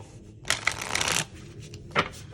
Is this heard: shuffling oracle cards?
yes